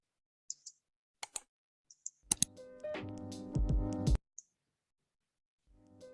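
Sharp computer key clicks, a few isolated taps spaced apart, including a press of the enter key, close and clear, followed by a brief burst of louder tonal sound.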